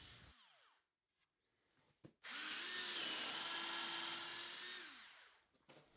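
A power drill whines steadily for about three seconds as it widens a hole to 1/4 inch in a white oak trestle. The pitch holds high and even, with quiet gaps before and after.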